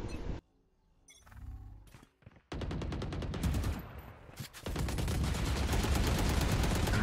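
Gunshots in a Valorant match, starting with a few sharp isolated shots amid quieter moments, then sustained rapid automatic fire that continues loudly to the end.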